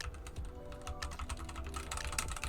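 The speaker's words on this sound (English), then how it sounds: "So I decided to get a new keyboard that isn't as loud, but you can still hear it. I think it sounds really nice." Typing on a Redragon K630 mechanical keyboard, a compact 60% layout, with quick irregular key clacks close to the microphone, moderately quiet and alone.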